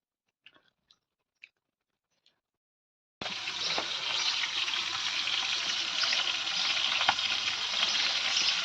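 Tilapia fish frying in a pan: after a few faint clicks, a loud, continuous hissing sizzle starts suddenly and holds steady.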